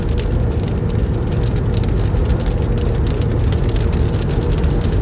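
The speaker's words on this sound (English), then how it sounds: "it's dark and raining" Rain drums on a vehicle driving a highway at night during storm chasing, a steady, close hiss of spray and road roar that never lets up.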